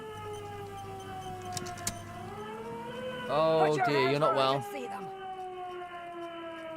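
A wailing siren tone from the video game Disco Elysium runs steadily under the scene while a voice speaks briefly; the siren sounds synthetic and game-like, continuous throughout.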